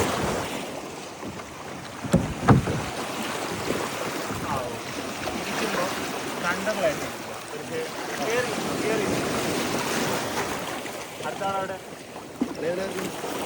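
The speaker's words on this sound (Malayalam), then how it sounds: "കടൽ നല്ല ശക്തിയിൽ അടിക്കുന്നുണ്ട്." Rough sea off Lakshadweep churns around a kayak, with continuous washing and slapping water and gusty wind buffeting close to the microphone, and people talking at times.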